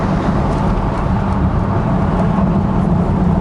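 Bentley Continental GT driving on the road, heard from inside the car as a steady, loud low engine drone and road roar that holds evenly throughout, with no voices.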